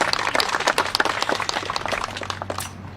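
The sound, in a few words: audience applause at flag raising ceremony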